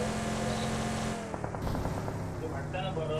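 A vehicle speeding along at about 150 in the video game BGMI, its engine droning and revving steadily while voices talk over it.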